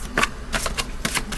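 Tarot cards are shuffled and drawn at close range, giving a brief run of crisp, papery riffles and snaps in quick succession, with no speech.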